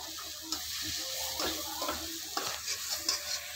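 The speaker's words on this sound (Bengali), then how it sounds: "মশলাটা দিয়ে দিচ্ছি দেখো দু চামচ দিলাম দিয়ে এবার নাড়িয়ে নেবো" Pav bhaji masala being stirred in a frying pan, a low sizzle under repeated spoon scrapes and taps against the metal, close and without talking.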